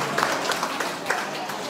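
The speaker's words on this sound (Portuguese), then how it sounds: "Uma grande salva de palmas para ela, se faz favor." A crowd at a Portuguese dance party claps for a 77-year-old woman, with a continuous wash of fairly loud applause and a few sharper claps poking through.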